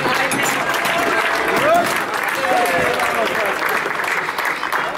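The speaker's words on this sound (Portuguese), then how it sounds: "Uma salva de palmas para os três primeiros classificados." Sustained applause from a crowd at a rally awards ceremony honouring the top three finishers, steady and dense clapping throughout with some crowd noise and a voice over a loudspeaker.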